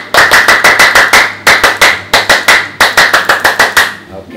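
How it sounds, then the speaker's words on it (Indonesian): Scout-style rhythmic hand clapping in a Pramuka clap routine, sharp close claps in three quick bursts of evenly spaced beats separated by short pauses, loud and dry with no talk over it. "pokoknya tepuk pramuka tuh dua kali"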